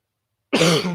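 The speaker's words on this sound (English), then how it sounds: "the COVID cough" A single harsh cough bursts out after half a second of silence, loud and close, rasping through to the end.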